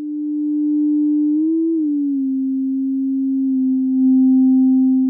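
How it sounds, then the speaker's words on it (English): Simple sine wave from a Make Noise tELHARMONIC synth module, a pure steady tone holding near one pitch with a slight wobble partway, close and alone. "now I have what looks like a nice simple sine wave"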